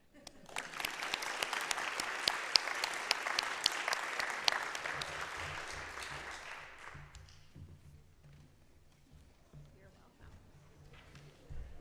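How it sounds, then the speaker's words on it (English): A congregation at a year-end meeting applauds its board, dense clapping that fades out after about seven seconds into a quiet room with low hum and a few faint sounds. "And another round of applause for our wonderful board"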